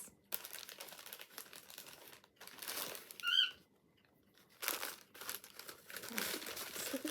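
Christmas wrapping paper crinkles and tears close by as a present holding a new jumper is unwrapped, in bursts of rustling with a brief pause midway.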